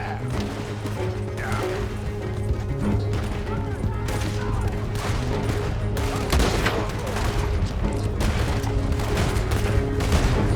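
Gunfire erupts during a stagecoach robbery in Red Dead Redemption 2, a dense fusillade of repeated shots and mechanical clatter over a constant rumbling background, with shouting voices mixed in.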